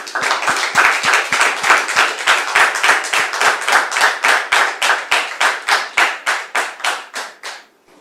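A studio audience claps in a loud, rhythmic unison beat of roughly three claps per second, sustained for several seconds before quickly fading out.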